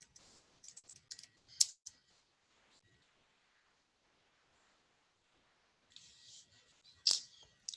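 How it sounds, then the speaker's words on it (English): Typing on a computer keyboard during a study session comes in short bursts of light clicks, a quick cluster early on, a long quiet gap, then another flurry of keystrokes near the end. "I'm typing."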